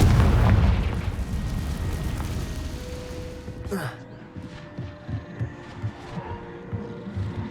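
A loud fiery spell blast from the Confringo fire spell in Hogwarts Legacy booms at the start and decays into a rumbling tail, followed by quieter magical whooshes and low game ambience.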